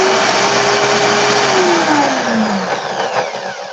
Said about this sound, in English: Put my drill in reverse, the reverse of what I was just going.